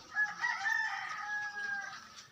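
A rooster crows once, close and clear, a drawn-out strained call lasting a couple of seconds, among hens.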